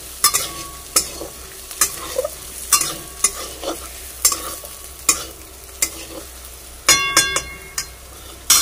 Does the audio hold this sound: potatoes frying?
yes